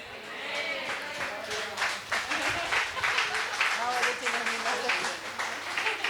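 Church congregation applauding during a Sunday Kannada worship service, a steady wash of clapping running the full length with voices talking and calling over it.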